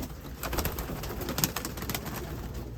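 Pet pigeons or doves coo softly during a bath on the Big Island of Hawaii, with repeated low, close calls over a light background bustle.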